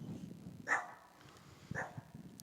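A dog barks twice in the background, two short separate barks about a second apart, moderately loud, in an otherwise quiet room.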